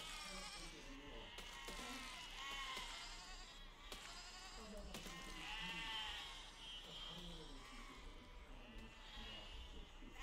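Several sheep in a video game bleat repeatedly over a constant low background hum, their cries overlapping and rising and falling in pitch.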